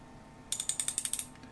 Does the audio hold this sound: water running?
no